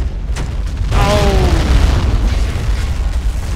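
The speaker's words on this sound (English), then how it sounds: "Second missile did it." A missile explosion in a modern war video game mod set during a Russian invasion of Ukraine: a loud booming blast with a rumbling tail and falling whistle-like tones, over continuous heavy battle noise.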